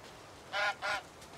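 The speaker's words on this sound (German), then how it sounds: "Da ist eine Gans, da ist eine Kuh." Two quick honks from a goose in the Force of Nature 2 video game, fairly faint and close together, heard alone over quiet ambience.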